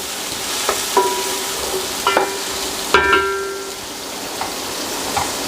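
Onions sizzling in hot ghee in a pot, a loud steady hiss like rain with occasional sharp metallic clinks and scrapes from stirring, close up and without speech.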